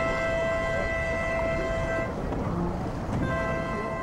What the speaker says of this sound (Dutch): De start van de laser en de extra toeter